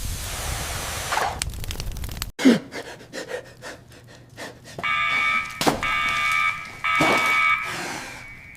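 A fire alarm rings inside a building during an emergency, its steady electronic tone sounding in long loud bursts amid commotion and sharp noises.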